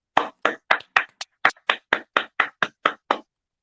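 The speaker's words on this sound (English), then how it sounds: "Let's clap for her" Radio morning-show hosts clap in the studio, about a dozen crisp, close claps in a quick, slightly uneven rhythm with silence between them, then stopping.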